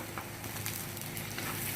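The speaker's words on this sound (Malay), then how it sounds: "Kita goreng lagi" Crushed garlic and ginger sizzle in hot oil for a beef curry, a steady, fairly quiet frying hiss with faint crackles and stirring scrapes, heard close up with no talk over it.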